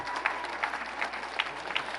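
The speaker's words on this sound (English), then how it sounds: "Please, a round of applause for these magnificent women and men." Applause at a gala from an audience honoring people on stage, heard as a fairly faint, brief wash of crowd clapping with a few louder individual claps standing out.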